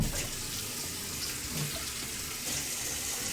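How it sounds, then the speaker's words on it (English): Running tap water splashes steadily while a cutting board is washed in a kitchen sink, a continuous broadband rush that holds roughly even for a few seconds with no talking. "let's get the cutting board a wash down here"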